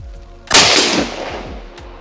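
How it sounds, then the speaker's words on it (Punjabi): A single sharp gunshot cracks close by at an outdoor clay target shooting session on Canadian crown land, with a loud burst that decays quickly, over a low background rumble and no talk. "Firing in the hole."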